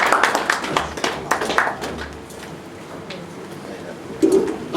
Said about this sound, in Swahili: tuongezee makofi tena Bwana Chairman wetu, makofi tafadhali